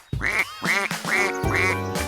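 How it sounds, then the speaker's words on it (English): A cartoon duck gives four loud, close, nasal quacks in a steady rhythm, alone with no music or talking. "Right, it's a duck. It says quack, quack."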